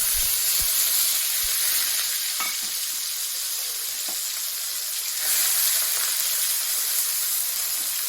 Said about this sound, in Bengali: জিরাটা আমি দিয়ে দিচ্ছি। মশলাটা বাটাটা দিয়ে দিচ্ছি।